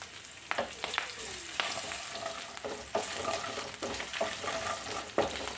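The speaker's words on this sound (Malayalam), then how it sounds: "ഇഞ്ചിയുടെയും വെളുത്തുള്ളിയുടെയൊക്കെ ആ പച്ചമണം ഒന്ന് മാറി അതുവരെ നമുക്കൊന്ന് വഴറ്റിയെടുക്കാം" Ginger, garlic and curry leaves sauté in hot oil for a mango pickle, a steady close sizzle with repeated spoon stirs and scrapes against the pan.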